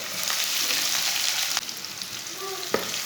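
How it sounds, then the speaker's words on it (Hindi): Finely chopped onion sizzles loudly in hot oil with whole coriander seeds for a dhaba-style keema, a steady close frying hiss with a couple of brief clinks as it is stirred. "एक बारीक कटा हुआ प्याज डाल लेंगे।"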